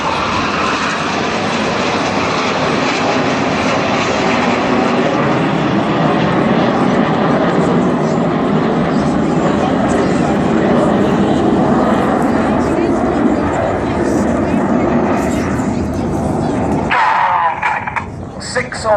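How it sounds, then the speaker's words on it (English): Tornado bomber jets of the RAF Tornado force make a loud, sustained roaring pass at a seaside air show, the jet roar filling the air before dropping away sharply near the end, with an announcer's voice over it. "So now celebrating the Tornado Bomber Force, in from the right, this is"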